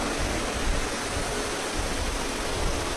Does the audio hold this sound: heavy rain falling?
yes